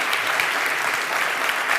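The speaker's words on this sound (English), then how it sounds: "Please, a big applause for Oscar Volontis." A crowd at a videogames summit in Tenerife applauds a speaker with dense, sustained clapping that fills the room as an even roar of many hands.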